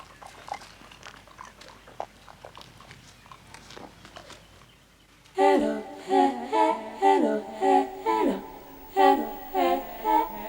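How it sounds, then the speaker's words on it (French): African wild dogs share and eat their prey in the African wild. Quiet rustling and soft tearing give way to loud, close, rhythmic bursts of chewing and squeaky twittering calls. "Pacifiquement, ils partagent leur proie."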